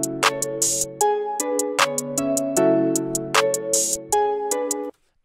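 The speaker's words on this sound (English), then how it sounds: "Next I'm gonna add the open hat, sounds like this," Open hi-hat added to a trap beat in FL Studio: longer sizzling hat hits recur across a looping synth melody and low bass, then cut to silence near the end.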